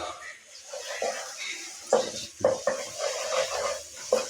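A ginger, garlic and cumin paste stirred into fried onions in a hot pan for fish pilau, with soft sizzling and several scraping spoon strokes against the pan, close and moderately loud.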